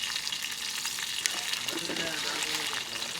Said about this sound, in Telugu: ధనియాలు వేస్తున్నా, ధనియాలు చూడురి,